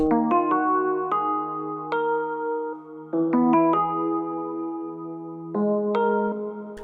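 Two layered synth sounds shaped with EQ and washed in Valhalla Vintage reverb, built in FL Studio for a beat, play a loud, bright chord sequence of struck, ringing notes changing every second or so, with no voices.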